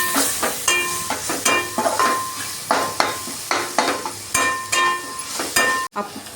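A spoon scrapes and stirs rhythmically through chicken masala seasoned with salt and chili powder in a pan, steady repeated strokes over a light sizzle, close and fairly loud, with no talk.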